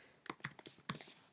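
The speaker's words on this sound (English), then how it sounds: "go to your browser and type" Several quick keystrokes on a computer keyboard as a web address is typed, faint and close, with clear gaps between the clicks and no voice.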